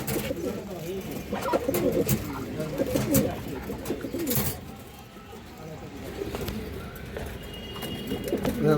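A female pigeon for sale coos repeatedly, soft throaty rolling calls mixed with other birds' chirps. A voice talks over part of it.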